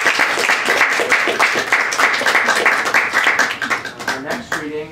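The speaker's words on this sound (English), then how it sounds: "Let's give the poets another round of applause." An audience at a poetry reading applauds the poets. The clapping is dense and steady at moderate volume and starts to thin out toward the end, while a voice speaks briefly over it.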